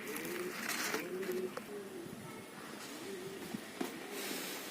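Pigeons in a net cage, including mother birds with young, coo softly and repeatedly over several seconds, with faint clicks and rustling underneath.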